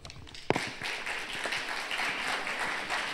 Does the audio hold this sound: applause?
yes